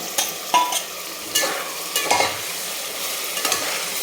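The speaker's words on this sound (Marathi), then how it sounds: "फुल फ्लेमवर आपल्याला चांगलं परतून घ्यायचं याला" Steady sizzling of marinated chicken stir-frying over full flame in a hot pan, with a few scraping stirs and clatters of a utensil and no talking.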